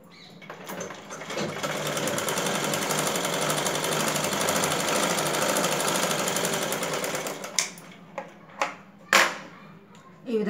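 A sewing machine stitching a double seam on blouse shoulders, a continuous rapid clatter for several seconds, then stopping, followed by a few sharp clicks and knocks.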